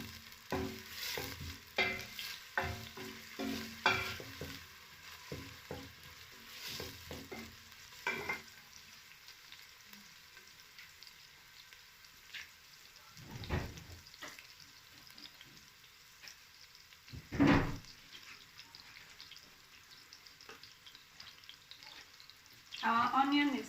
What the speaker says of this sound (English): We are going to cook the onions until they are golden brown.